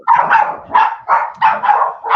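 Several dogs bark at someone at the door, sending out loud, close, rapid barks in a rough repeating rhythm, with no talk over them.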